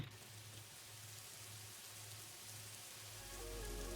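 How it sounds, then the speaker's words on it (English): Steady rain in Kashmir falls continuously, a dense hiss of drops with a low rumble building near the end. "this is just a rain sample from Kashmir"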